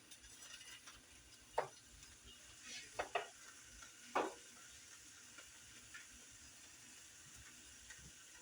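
French toast frying in a pan for a Sunday breakfast and turned with a spatula: a faint, steady sizzle broken by a few sharp scrapes and clicks, with no voices.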